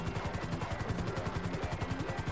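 A helicopter in GTA 5 Online, at an airfield hangar, throbs steadily with rapid rotor chop and a whining engine drone, close and continuous with no talk.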